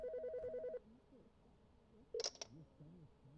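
A telephone rings in the Dale & Dawson video game, a rapid trilling electronic ring that stops after under a second, followed by quiet room tone and a short burst of chirpy game sound effects.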